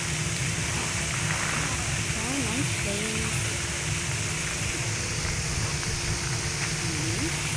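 Steady, rushing water pours down at a waterfall in a wild nature spot, a constant broadband roar under brief talk from visitors.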